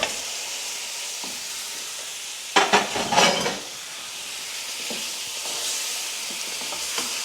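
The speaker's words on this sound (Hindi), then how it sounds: "जो मैंने गोश्त धोया हुआ है 1 kg जो लैम है वो मैं डालने लगी हूँ" A kilogram of lamb is added to a hot pot for shalgham gosht, setting off a loud burst of searing and clattering that settles into a gentler sizzle with occasional light stirs.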